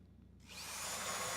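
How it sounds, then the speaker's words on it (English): A power drill in a video game starts up and runs steadily, boring into boxes with a continuous loud whirring grind that swells after a brief quiet moment. "We're gonna drill all the boxes."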